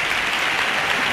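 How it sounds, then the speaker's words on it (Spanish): Theatre audience at the Gran Teatro Falla in Cádiz applauding a carnival chirigota, a steady, dense wash of crowd clapping, loud and sustained, with no speech over it. "que se despide devolviendo los aplausos al público del Gran Teatro Falla de Cádiz"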